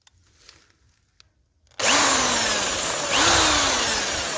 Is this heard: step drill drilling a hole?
yes